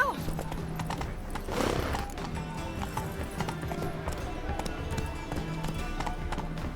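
Hoofbeats of Roach, a horse in The Witcher 3 video game, clopping in a steady galloping rhythm, close and continuous, with a brief whinny-like burst early on.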